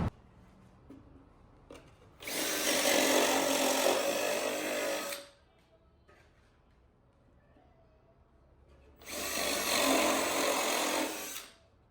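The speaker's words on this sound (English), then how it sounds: "So just drilling the holes now" A power drill bores holes into a wooden pallet in two loud, sustained whining bursts of about three seconds each, separated by a quiet pause with light handling noises.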